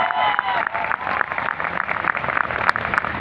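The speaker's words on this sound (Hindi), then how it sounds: "जोरदार तालियां होना चाहिए।" A crowd at a direct-selling event applauds a guru, steady clapping mixed with cheering and hubbub, dense and fairly loud throughout.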